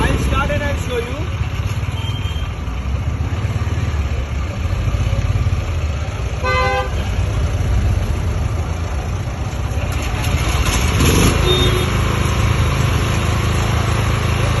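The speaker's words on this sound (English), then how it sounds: "Ultra compact petrol generator set. It can be started by recoil also. I'll start and I'll show you." A Bajaj 8 kW low-noise portable petrol generator runs steadily after a recoil start, a loud, close, continuous engine drone with a voice talking over it.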